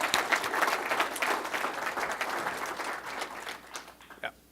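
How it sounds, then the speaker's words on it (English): An audience claps steadily for several seconds, a dense patter of many hands that thins out and fades near the end. "So big round of applause to the Pendo team."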